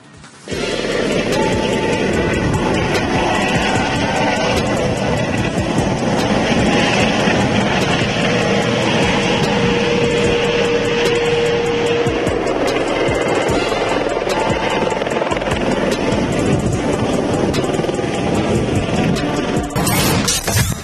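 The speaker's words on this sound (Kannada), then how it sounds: "ಹೆಲಿಕಾಪ್ಟರ್ ರೈಡ್ ಮಾಡುವ ಮೂಲಕ ನಗರದ ಸುಂದರ ದೃಶ್ಯಗಳನ್ನ ಕಣ್ತುಂಬಿಕೊಳ್ತಾ ಇದ್ದಾರೆ" Helicopter giving joyrides at the Hukkeri Mutt temple fair in Haveri, a steady, loud, continuous rotor and engine roar with broadband rumble throughout, no talk, ending in a brief change near the close.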